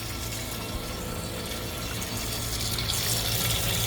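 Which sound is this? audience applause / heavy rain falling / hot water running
hot water running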